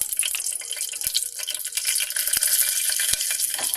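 Whole garam masala spices frying in oil inside a pressure cooker, a bright continuous sizzle with occasional soft pops and knocks, close and alone.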